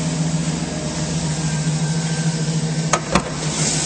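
A 2010 GMC Sierra 1500 crew cab with a clean engine bay idles smoothly under the open hood, a steady low hum that stays even throughout, with two brief clicks near the end.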